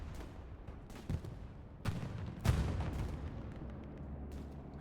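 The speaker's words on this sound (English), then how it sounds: "I hear a bombing run." Distant bombing run in the World War II shooter Hell Let Loose on the Carentan map, a rumble of booms and blasts swelling in bursts over about five seconds, with no talking.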